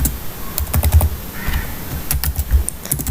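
Keys are tapped on a computer keyboard in quick irregular bursts of clicks, close and crisp, with short pauses between runs and no talking.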